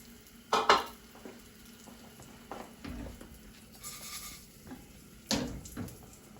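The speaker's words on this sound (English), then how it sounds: "now I've put my pan back on the fire with a little bit of olive oil, and now I fry my rice" Rice frying gently in a little olive oil in a pan for risotto, a low sizzle under clattering scrapes and knocks of a spoon against the pan, close by.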